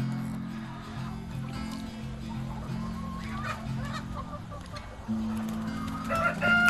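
Chickens and a rooster crowing at a hen farm in Kibabi, Bungoma County, with several overlapping crows and clucks over a steady, busy flock murmur, fairly close and continuous.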